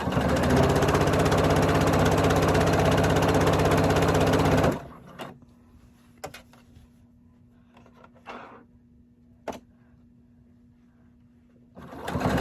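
A sewing machine stitching a fleece hat, a dense, loud mechanical whir for several seconds that then stops, followed by quiet handling clicks and a low background hum before the stitching resumes.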